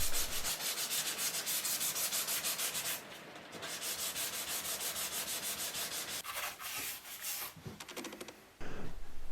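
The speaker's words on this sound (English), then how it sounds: "Final sand just to finish everything up" Final sanding of a wall-mounted wooden whiskey display shelf made from firewood, a close, steady rhythmic rasp of sandpaper on wood with brief pauses and shifts in stroke.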